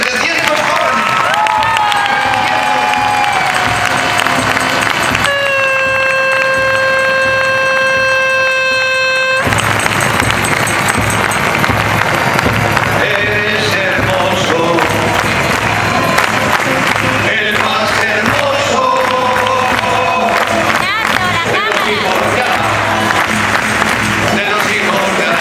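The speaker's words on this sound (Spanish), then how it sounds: "Muchachos, un aplauso." A crowd at a Catholic youth gathering, after a closing prayer, breaks into loud, sustained applause and cheering, with a held horn-like blast partway through and voices mixed in throughout.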